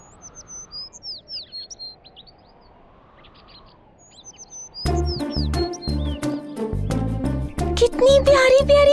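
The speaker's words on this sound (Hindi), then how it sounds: "कितनी प्यारी प्यारी चिड़िया है।" Small birds chirp in short high repeated calls over a soft background, first alone, then continuing under loud music and voices in a children's animated show.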